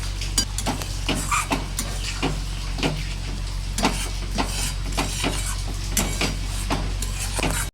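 Potatoes and spices frying in a pan for a fish curry, with a steady close sizzle under repeated scraping stirs of a utensil against the pan.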